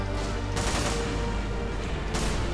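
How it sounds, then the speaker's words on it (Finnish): Rapid, loud gunfire from a fully automatic shotgun in the video game Call of Duty: Modern Warfare 2, a dense continuous burst of booming shots up close with no talk. "Tämä on täysin automaattihaulikko tämä AA."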